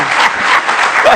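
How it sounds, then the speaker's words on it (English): Applause from a crowd fills the moment, a loud, dense clatter of clapping with voices mixed in. "Congratulations on the applause."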